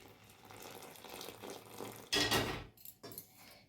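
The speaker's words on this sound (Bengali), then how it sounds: "এবারে চাল গুঁড়োর মধ্যে গরম জলটা দিয়ে দিচ্ছি।" Boiling water is poured into rice flour in a kitchen to make bhapa pitha dough. A brief splashy pour bursts out after soft background clatter, followed by a few light knocks, all fairly quiet.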